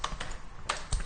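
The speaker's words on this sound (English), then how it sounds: "Let's try typing a trigonometric equation." Typing on a computer keyboard: a handful of distinct close key taps in quick, uneven succession, heard alone.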